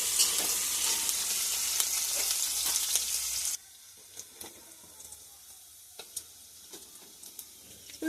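Minced garlic and chopped green chillies hit hot oil in a pan with a loud, dense sizzle that drops sharply midway to a faint crackle with scattered small ticks and pops.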